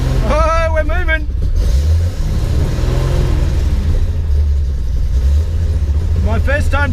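A home-built Datsun 240Z pulling away in first gear: a loud, steady low engine rumble close by, with voices talking over it at the start and end.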